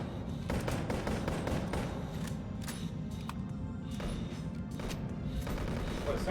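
Rapid gunfire in the VR shooter Boneworks, with repeated sharp cracks and bursts rattling across the scene at moderate loudness, some shots seemingly distant, over a steady low rumble.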